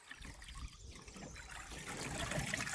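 Water trickles and dribbles out of a laundry bag of freshly washed alpaca fleece, a faint, close, steady dripping and draining that grows slightly fuller toward the end.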